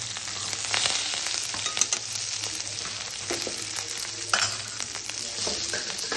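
Turmeric and curry leaves sizzle in hot oil as tempering for tamarind-leaf dal, a steady close frying hiss with scattered pops and stirring clinks throughout, no talking.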